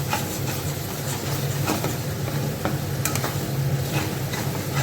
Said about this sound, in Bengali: তারপরে সব মশলাপাতিগুলো একবার করে দিয়ে মতো নুন দিয়ে নেবো, আর একটু এবার থেকে একটু হলুদ, ভালো করে নাড়িয়ে